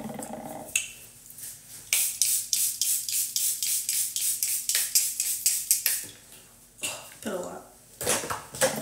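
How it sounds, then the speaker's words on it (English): Setting spray being misted from a pump bottle, a rapid series of about twenty short hissing spritzes in steady rhythm, close and crisp, with a voice talking before and after. "And some setting spray."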